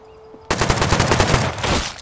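Automatic gunfire in the survival game Rust bursts in abruptly after a quiet moment, a rapid, loud string of close shots rattling for about a second and a half before easing off.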